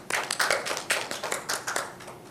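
Scattered hand claps from a small audience at a healthcare excellence awards ceremony, honoring an award winner: a quiet, uneven patter of separate claps that stays sparse and brief.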